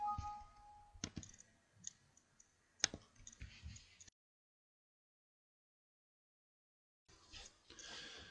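Mouse clicks on a computer running motorsport component lifing software, a few sharp close clicks scattered over several seconds with quiet gaps and a stretch of near silence.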